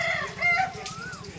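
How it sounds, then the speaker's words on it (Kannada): Chickens cluck in a quick rhythmic patter while a rooster's drawn-out crow rises above them, both close by and fairly loud, with no talking. "ಹಿರೇಶ್ ಇವತ್ತು ಸಂಡೇ ಅದಲ್ಲ, ಕೋಳಿ ಹಾಕ್ಬೇಕು ಮೊಟ್ಟೆ."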